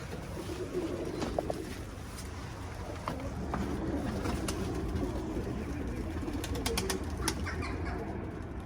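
Pigeons at an office coop coo softly amid steady outdoor noise, with faint wing flaps and bird sounds scattered throughout at moderate distance.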